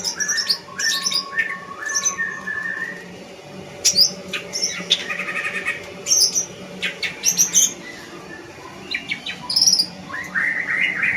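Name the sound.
green leafbird (cucak ijo) singing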